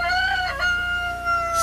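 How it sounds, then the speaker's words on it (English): A farmyard rooster crows in a long, loud call held steady for well over a second, ending in a brief noisy burst with no talking. "R also stands for rooster. See, rooster."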